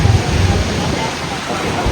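A windy rainstorm brings a steady, loud rush of rain and gusting wind that holds without a break from start to finish.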